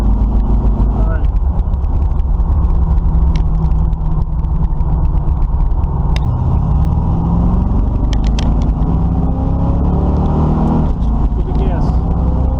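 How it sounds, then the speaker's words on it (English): A Camaro engine with a newly installed carburetor revs repeatedly and loudly, a steady close rumble with swelling throttle blips, while people talk over it. "Give it a good amount of gas."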